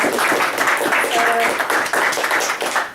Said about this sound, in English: I do want to offer him a round of applause and our appreciation.